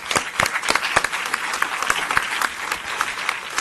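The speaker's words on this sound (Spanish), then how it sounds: "Creo que merecen un fuerte aplauso a todos ustedes." An audience at a Mexican parliamentary open forum on federal spending bursts into steady, dense applause, many hands clapping continuously and fairly close for several seconds.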